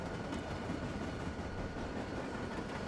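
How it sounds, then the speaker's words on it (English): Train wheels rumbling along the rails in the Train Simulator 2020 game on the North Jersey Coast Line, a faint, continuous low roar with soft clicks, no voices. "Like the clickety-clack of the train on the tracks, it actually sounds pretty realistic"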